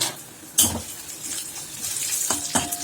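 A utensil scrapes and stirs ingredients in a cooking pan on a stove, with a few sharp clinks against the metal over a faint sizzle and watery background; no talking.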